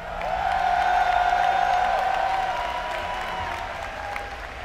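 Arena crowd at a StarCraft esports match, applauding and cheering for a player's entrance, a loud continuous wash of clapping with a whistle rising early on and slowly easing off.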